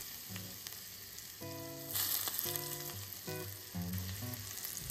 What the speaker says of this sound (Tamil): கொஞ்சம் காய்ச்சின எண்ணெய், நம்ம சமையலுக்கு யூஸ் பண்ணுற எண்ணெயை காய்ச்சி இந்த மாதிரி ஆட் பண்ணிக்குவேன்.